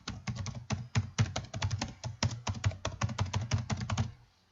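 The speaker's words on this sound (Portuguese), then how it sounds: "Digitar um e-mail válido." Rapid, uneven keystrokes on a computer keyboard as an email address is entered, close and clear with no talking, clattering in quick bursts before trailing off at the end.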